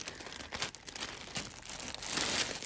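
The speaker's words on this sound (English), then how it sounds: "Let me just try to open this plastic bag so we can get to our box." Crinkly plastic bag being pulled open around a Chanel box, with a continuous rustling and crackling that builds toward the end, close and fairly quiet.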